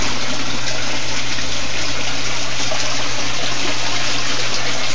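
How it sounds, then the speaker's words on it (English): Water slowly draining out of a weep hole at the bottom of a pumped outdoor fish-tank system's grow beds, a steady, close, continuous rushing trickle with no voices. "That water is slowly draining out of a weep hole down at the bottom."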